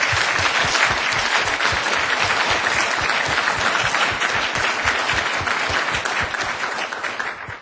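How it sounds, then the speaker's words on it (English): Lecture-hall audience at a memorial lecture giving sustained applause for a professor, many hands clapping in a dense, rhythmic patter that holds strong and then tapers off toward the end. "So if everybody could just give Professor Kinney a round of applause."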